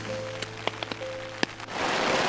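Scattered raindrops tap sharply on tent fabric close by during an Arctic river trip, a few distinct hits, before a steady rainy hiss builds toward the end.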